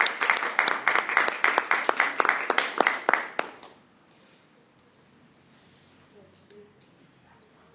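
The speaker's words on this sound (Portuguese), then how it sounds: "Vamos aplaudir a palavra de Deus?" A small congregation at a prayer group meeting claps in a steady rhythmic beat for nearly four seconds before the applause stops and the room goes quiet.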